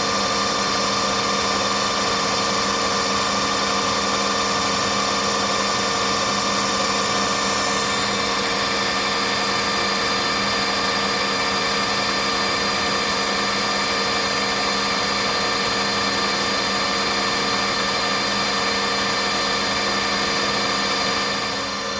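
A lathe cuts away a step on a gear part for a 4 1/2 inch Burrell traction engine build, a steady loud machining drone with sustained tonal whine, unbroken and without talk throughout.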